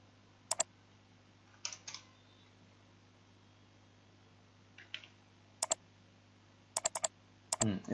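Sparse, quiet keystrokes on a computer keyboard as a command is entered, a few isolated taps and quick pairs of clicks separated by pauses over a faint steady hum.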